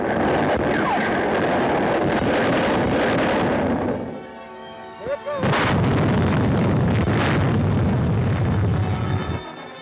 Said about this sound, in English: The heavy firepower of the Navy's guns immobilized enemy warships, neutralized shore batteries, and gave protection to the landing forces.